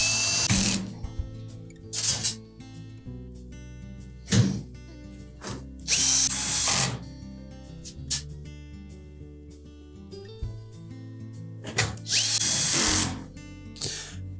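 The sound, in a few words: power drill driving screws into Whirlpool range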